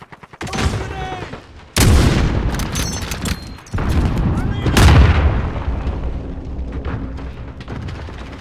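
Explosions and gunfire from the video game Call of Duty Modern Warfare, with loud booming blasts and bursts of shots hitting hard in several waves, mixed with in-game voice callouts.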